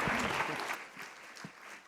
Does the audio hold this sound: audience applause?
yes